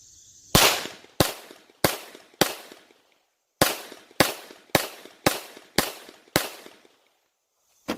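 A Glock 17 pistol fires at a shooting range with ten sharp, loud shots, close by, in a group of four and a group of six, evenly spaced and separated by a short pause.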